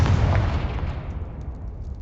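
A Confringo spell detonates in Hogwarts Legacy as a loud, booming blast that lands at once and then rumbles and fades away over about two seconds, with no voices heard.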